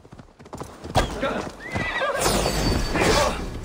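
Horse hooves clatter at a gallop with a sharp whinny in Assassin's Creed Valhalla gameplay, loud and close, with someone speaking Czech over the action.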